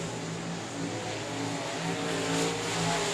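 Sportmod race cars roar around a dirt speedway in South Texas, engines droning steadily and loudly with a continuous, layered rumble that swells slightly as cars pass, no talking over it.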